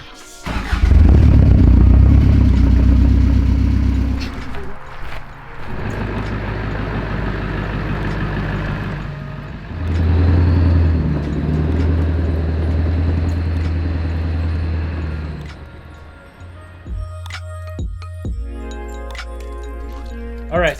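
A pickup truck drives fast with a loud, steady low engine and road rumble that swells and dips in long stretches, and short clinks and knocks come near the end.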